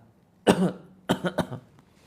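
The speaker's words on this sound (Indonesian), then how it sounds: "Batuk-batukan." A single harsh cough followed by a quick burst of two or three smaller coughs, close and clear against a quiet background.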